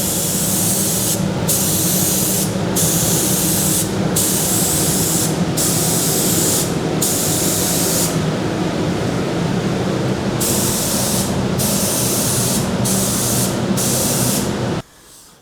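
Spray gun painting a Holden HZ car body, a loud continuous hissing spray broken by short regular pauses as the trigger is released, cutting off abruptly at the end.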